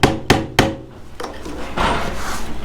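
An old chisel being hammered to pry out the glazing bead of an old window, with three or four sharp wooden knocks in quick succession followed by a scraping, creaking pry.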